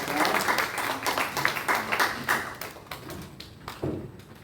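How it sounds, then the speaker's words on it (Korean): A church worship audience gives encouraging applause, a burst of clapping that starts fairly loud and thins into scattered claps and taps before trailing off. "다시 한 번 더 격려의 응원의 박수를 해주시기 바랍니다"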